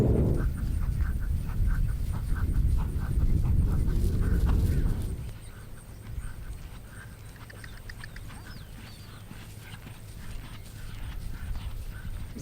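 Hooves of a horse being lunged on a farm beat out a rhythmic clip-clop, loud and close for about five seconds before fading to a faint, distant patter.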